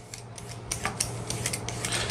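Strings are peeled off celery ribs for a vegan lobster roll, giving a string of short crisp snaps and tearing clicks close by, quiet and irregular with no talking.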